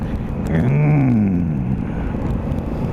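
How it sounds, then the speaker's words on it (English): A Honda Africa Twin motorcycle engine revving as the throttle is twisted, a rising then falling engine pitch heard close over steady road and wind rush. "I like the sound when you twist the throttle"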